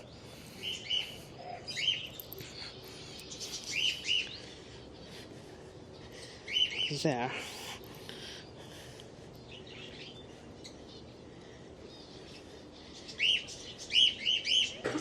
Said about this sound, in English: Forgot there was an aviary here. Love birds and budgerigars and whatever those are.